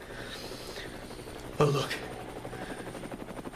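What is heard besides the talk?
edited-in helicopter sound effect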